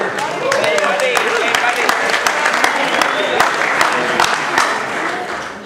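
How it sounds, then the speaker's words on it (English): Wedding guests at a reception applaud the best man, a dense burst of many hands clapping with sharp individual claps standing out, loud and sustained before tapering near the end, with cheering voices in the crowd. "Everybody, round of applause for Nick."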